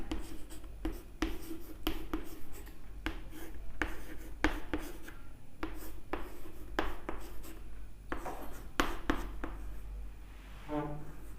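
A chemistry compound is written out by hand, with rapid scratchy pen strokes in short irregular bursts separated by brief pauses and a quiet room hum underneath, no talking.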